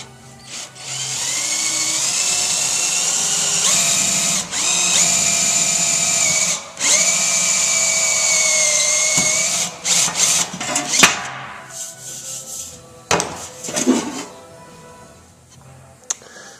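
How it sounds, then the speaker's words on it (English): A power drill with a step bit whines loudly and steadily as it bites through sheet metal for a fuel cap bung hole, pausing briefly a few times before stopping and restarting in short bursts. "that's what we're going to drill up to with the drill"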